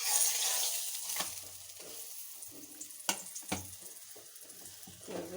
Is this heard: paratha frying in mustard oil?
yes